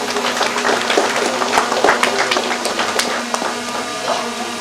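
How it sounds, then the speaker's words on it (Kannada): Audience applause at the inauguration of a nature cure and wellness centre, dense and steady throughout with scattered sharp claps, a crowd murmur and a voice briefly heard underneath. "ಜೋರಾದ ಚಪ್ಪಾಳೆ ಬರಲಿ."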